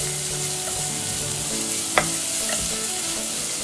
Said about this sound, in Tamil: நம்ம நறுக்கி வச்ச முட்டைகோஸ், கேரட், குடமிளகாய் இது எல்லாத்தையும் சேர்த்து நல்லா வதக்க ஆரம்பிச்சிடலாங்க